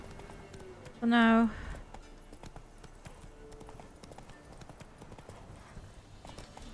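Roach the horse in Witcher 3, with a loud whinny burst early on, then soft repeated hoof clip-clops continuing under a person talking.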